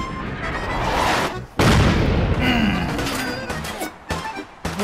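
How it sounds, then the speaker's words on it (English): A missile blast in Fallout 4 hits with a loud close boom, then a rolling rumble and debris crackle, followed by a few sharp gunfire pops as it fades. "Look at that explosion."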